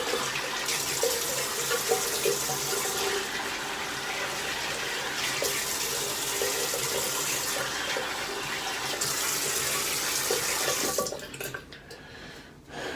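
Tap water runs steadily for a final cold-water rinse after soap washing, a continuous splashing flow that cuts off near the end, leaving brief quiet.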